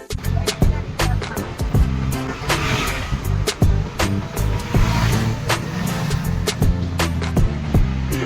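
A car passes along a road without stopping, its engine droning loud and close throughout with rumbling low tones and sharp clicks, no voices over it.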